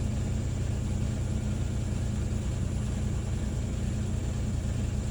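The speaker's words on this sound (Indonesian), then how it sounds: "ada perubahan pada suara mesin lebih membesar, tapi kembali ke normal" A car engine idles steadily with a low, even rumble, no change in pitch, close by and continuous throughout, during testing of O2 sensor and idle control faults.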